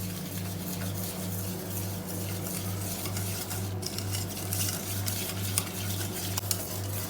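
Powdered sugar being stirred into a cake mixture in a bowl with a utensil: continuous scraping and light clinking against a steady low electrical hum, no voices.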